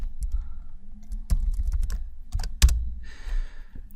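Irregular, close clicking of keys on a computer keyboard during a programming session, with quick bursts of keystrokes and short pauses and no talking.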